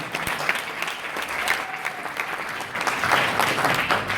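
An audience at a press conference for an international sand marathon applauds an athlete, with lively clapping that swells and grows louder toward the end.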